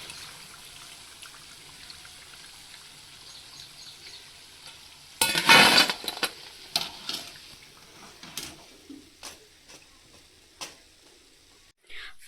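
Punugulu batter deep-frying in hot oil for street-style snacks gives a steady close sizzle, broken midway by a loud burst of spattering and then a run of sharp clinks and stirring knocks.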